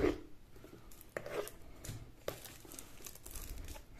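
Plastic wrapping being peeled off a book-style money bank, giving soft crinkling and tearing sounds in short bursts, close and fairly quiet.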